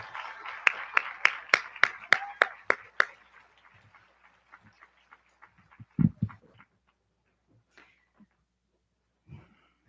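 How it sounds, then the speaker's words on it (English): At a high school graduation ceremony, a round of clapping for the choir is sparse and close: a quick, regular run of sharp claps, then scattered claps thinning out, with a dull thump partway through. "Let's give them another round of applause."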